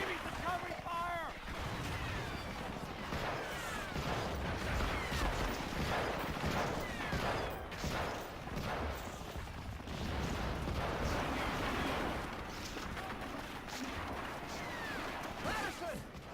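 Gunfire and explosions in a war video game, a constant loud barrage of shots, blasts and clatter running throughout, with shouted voices mixed in.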